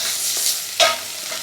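Chopped onions sauté in a hot pan at home, a steady close sizzle with a brief louder scrape of stirring partway through.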